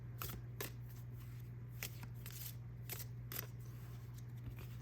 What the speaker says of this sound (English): When I shuffle these, I shuffle them overhand because of the round nature of them.